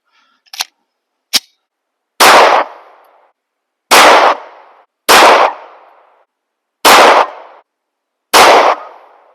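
A PSA Dagger pistol fitted with a red dot sight fires five sharp, loud shots at a range, spaced roughly one to two seconds apart. Two small clicks come before the first shot.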